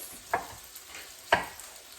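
Meat frying in a pan for a breakfast hash, a soft steady sizzle with two sharp scraping clinks of a utensil stirring it.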